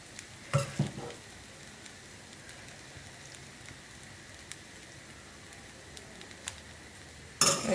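A cast iron pan gives a soft, steady sizzle while a paneer bhurji sandwich cooks, with a few louder clatters near the start and end.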